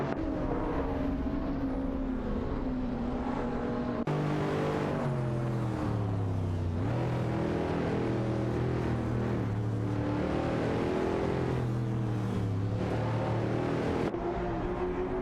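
Video game race cars, a Lamborghini Diablo and a Mercedes SLR McLaren, with loud continuous engine whine rising and falling through shifts as they contest position, a sharp cut midway to another car's engine.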